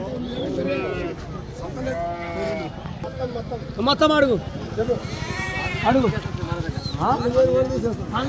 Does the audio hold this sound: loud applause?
no